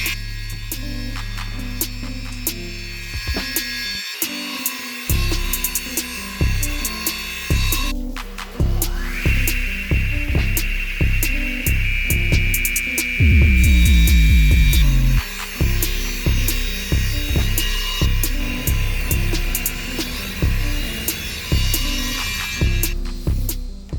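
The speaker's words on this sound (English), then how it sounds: "I repeat those same cuts on the second piece of plywood so that they will both match perfectly." Radial arm saw cutting repeated dado passes across a second piece of plywood, with loud rhythmic bursts of blade-through-wood cutting over a steady motor hum and whine, no talking.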